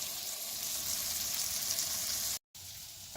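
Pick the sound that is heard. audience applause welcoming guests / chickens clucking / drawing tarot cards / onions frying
onions frying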